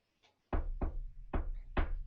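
A voice imitates knocking on a car window, giving four sharp, loud knocks in an even rhythm after a short, faint tap, heard close and alone.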